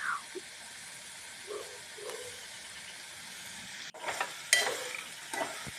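Sprouted moong beans frying in oil and masala for a khichdi, a soft steady sizzle with occasional stirring scrapes and clatter, louder in the last two seconds.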